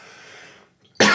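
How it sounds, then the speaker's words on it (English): A single short, loud cough bursts out close by, preceded by a moment of faint background sound and brief near-silence. "I just want you to know I'm about to cough."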